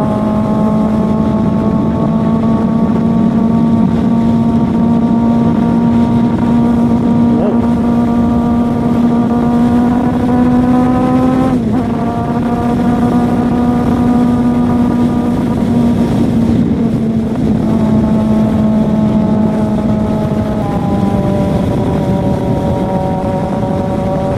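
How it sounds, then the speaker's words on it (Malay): A Kawasaki Z800 motorcycle runs steadily while being ridden, its engine note holding a loud, strong hum that rises gradually, dips briefly after mid-ride as the rider shifts, then climbs again, with wind rush underneath throughout. "Naik motor besar ni."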